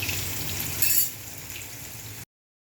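Chicken pieces frying in oil in a kadai, a dense, even sizzle up close with a brief clink near the start, then cutting to silence; nobody speaks.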